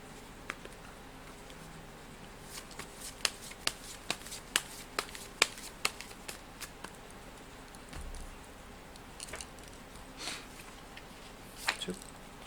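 Thai fortune-telling cards shuffled and handled at a daily horoscope reading, giving faint crisp riffling and dry clicking taps in an irregular string over low background hiss, with no talking.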